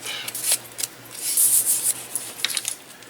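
Scissors trim the ends of a folded strip of construction paper, giving close, crisp snipping and rustling paper that runs almost continuously, with a few sharper cuts standing out.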